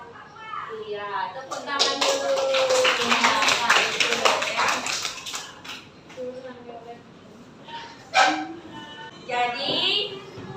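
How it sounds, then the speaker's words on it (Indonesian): Children in a classroom clap their hands together for several seconds in a dense, close patter of claps, with children's voices and an adult's speech around it and a few louder claps near the end. "Iya, tepuk tangan dulu."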